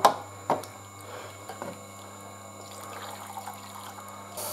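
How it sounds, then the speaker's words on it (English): Water poured onto a Tormek sharpening stone, a soft trickle and splash opening with a couple of sharp clicks, then a faint continuous dribble under a low motor hum. "Water again."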